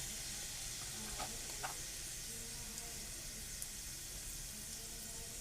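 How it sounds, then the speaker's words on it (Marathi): Mustard seeds and cumin sizzling in hot oil for a green chili dish, a soft, steady frying hiss with a couple of faint pops, no talking. "आता त्याच्यात मी राई जिरं टाकतो थोडंसं चिमटी"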